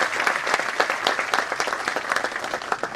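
Conference audience applauds at a financial innovation accelerator event, a dense, sustained burst of many hands clapping at once, loud and steady throughout with no voices on top.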